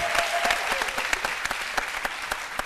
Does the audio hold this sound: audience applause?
yes